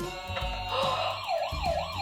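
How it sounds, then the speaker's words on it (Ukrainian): Ambulance siren wailing loudly and continuously, its rising and falling tone sweeping up and down in steady cycles over low traffic rumble. "Швидка медична допомога поспішає в лікарню"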